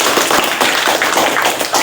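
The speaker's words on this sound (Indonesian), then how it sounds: "Tepuk tangan untuk Agus." Audience at a university presentation session clapping hands, a dense, loud, steady patter of many claps alone with no talk.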